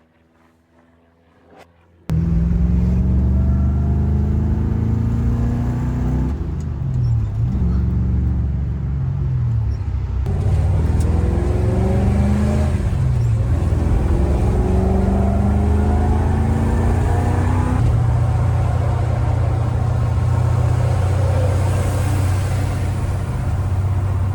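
A Holden HQ Monaro GTS cruising steadily at about 80 km/h gives a continuous, loud interior engine drone and road rumble, with a few gentle rises in pitch as the engine note shifts.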